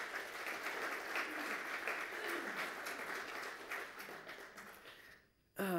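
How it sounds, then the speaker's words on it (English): An audience claps for Mike in a steady, fairly dense round of applause that fades and cuts off near the end. "so please give Mike a big round of applause."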